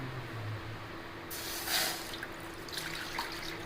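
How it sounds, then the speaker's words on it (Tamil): Coconut milk poured into a cooking vessel for Chettinad paal kozhukattai gives a short splashing, liquid pouring burst in the middle, fairly close, with soft trickling after it and no talk. "இந்த தேங்காய் பாலை நான் இப்போ வந்து இதில் சேர்க்க போகிறேன்."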